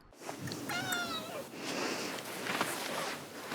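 A cat gives one clear, wavering meow at moderate volume, followed by soft shuffling and background rustle.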